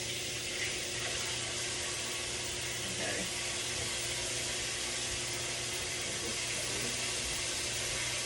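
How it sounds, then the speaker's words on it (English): Tap water runs steadily into a kitchen sink while hands are washed, a faint continuous hiss and splash with no breaks. "And then you can wash your hands"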